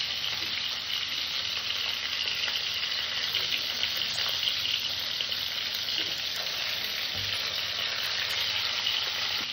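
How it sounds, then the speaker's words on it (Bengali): Fish frying in hot oil in a pan, a loud, steady sizzle and crackle close by that runs unbroken for the whole stretch, with no talking. "মাছটাকে আমি সুন্দর করে ভেজে নেব।"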